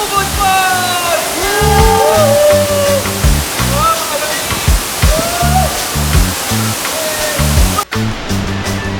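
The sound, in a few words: Ubot Falls waterfall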